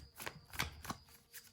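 Tarot cards shuffled by hand in the classic overhand way, giving a few quiet, crisp riffling bursts spaced about a third of a second apart, close and faint with no talking.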